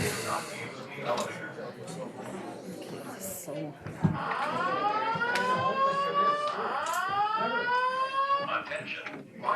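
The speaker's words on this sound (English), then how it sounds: "Attention, fire alarm has been activated." A fire alarm sounds in a county board meeting room, repeating rising electronic sweeps over a steady tone, loud and continuous while people talk and a recorded voice announces underneath.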